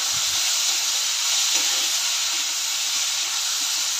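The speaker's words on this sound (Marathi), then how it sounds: "बारीक कुटून घेतलेलं लसूण, सर्व मिक्स करून परतून घेऊया." Crushed garlic and asafoetida sizzle with chopped beans in a pan, giving a steady, close, even hiss with no break and no voices.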